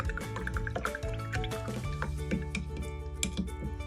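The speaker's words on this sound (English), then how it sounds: "Let's wash that mucky brush." A mucky paintbrush swished and tapped in a pot of water after a kids' painting activity, close wet sloshing and dripping with small clinks against the container.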